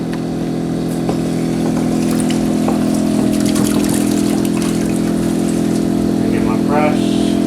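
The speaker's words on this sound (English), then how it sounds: "So I'm gonna blast some water up inside of here." Water from a hose blasts up inside a compost tea part, a loud, steady rushing spray over a constant pump-like hum that runs throughout with occasional small clanks.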